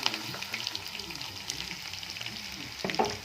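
Curry leaves and green chillies frying in hot oil for a potato palya, a dense crackling sizzle with light stirring scrapes, steady and close, alone without speech.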